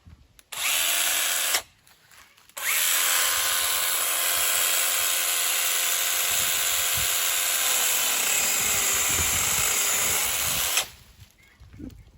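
A Parkside 20 V cordless pole pruner, the PGHSA 20-Li B1, runs with a steady high whine, starting briefly, pausing, then running continuously for about eight seconds before stopping, close and loud with no talk.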